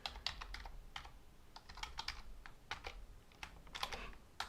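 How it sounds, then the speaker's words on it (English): Someone types a password on a computer keyboard, a quiet, irregular run of soft key taps with short pauses between clusters of strokes and no talking. "Okay, now let's type our password."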